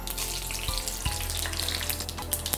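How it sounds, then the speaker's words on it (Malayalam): Mustard seeds spluttering in hot oil in a pan, a steady crackling sizzle with scattered sharp pops, fairly close and moderately loud, no talking. "കടുക് പൊട്ടി തുടങ്ങി."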